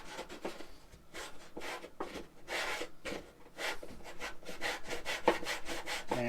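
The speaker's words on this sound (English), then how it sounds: "use my sanding block," Wood sanded at a 45-degree angle with a sanding block on a Boss USA Mighty Miter Sander, a close, quiet, continuous series of rhythmic back-and-forth rasping strokes.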